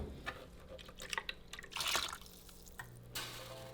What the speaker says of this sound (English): I'm just going to get a little bit of the water into my blender.